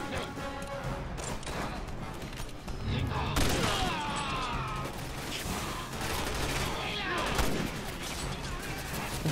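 Rapid gunfire rattles through a combat scene in the video game Resident Evil 6, with bursts of shots, clanking impacts and crashes over a busy background while a voice talks.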